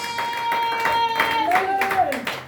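Church congregation clapping steadily together in a large room, with a sustained musical tone and some singing over the hands.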